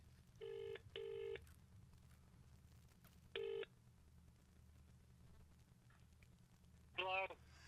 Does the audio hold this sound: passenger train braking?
no